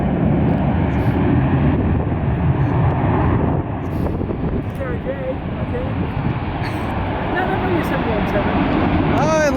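Aeromexico Embraer E190 jet at Atlanta airport producing a broad, steady engine roar with wind buffeting, loud and continuous, while a person talks over it.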